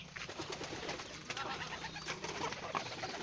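Pigeons coo softly in a loft, with low repeated calls mixed with fluttering and faint rustling in the background throughout.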